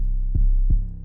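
Two deep 808 bass notes from a hip-hop beat land one after another, each with a punchy attack and a booming sustain that overlaps and smears into the next rather than cutting off cleanly.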